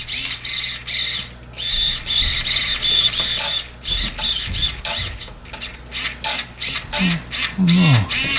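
A Traxxas Slash RC car's steering servo whirs in repeated short bursts, close and loud, with brief pauses between them and a short voice near the end.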